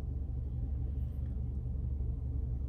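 Steady low rumble inside a car driving on the road home, a constant muffled drone of engine and tyres filling the cabin with no talking.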